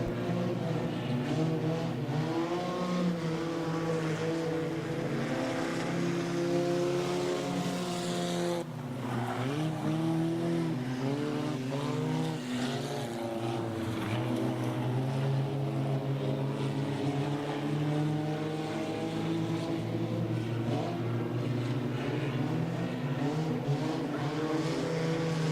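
Junk cars race around a track, their engines roaring loudly and continuously with rising and falling pitch as they pass, and a brief dip midway.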